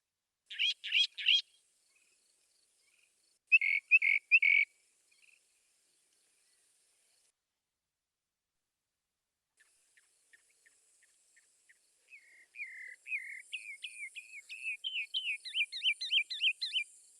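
A mockingbird sings a varied series of phrases imitating other birds: quick chirps, a short burst of notes, then faint ticks building into a long run of rapid repeated whistled notes, clear in quiet surroundings.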